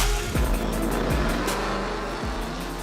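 A loud Ram TRX pickup truck with its exhaust exiting through the bed roars continuously on video playback, with steady engine drone and a few quick revving sweeps.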